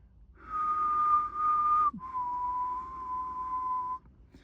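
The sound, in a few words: person whistling, imitating a whistle signal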